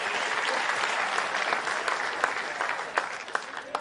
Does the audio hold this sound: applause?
yes